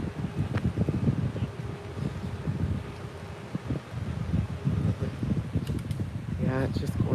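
Steady outdoor wind rushes and buffets against the microphone in Hawaii, a continuous low roar throughout with a person's voice mixed in.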